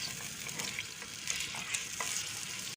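Mutton for nihari fries over a high flame, hissing and sizzling steadily close up while a utensil stirs it in short scraping strokes.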